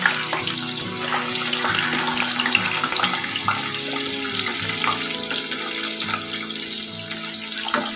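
Potato boats stuffed with cheesy corn frying in hot oil, turned to cook both sides, give a steady close crackling sizzle with watery bubbling throughout and faint scraping touches, no voices.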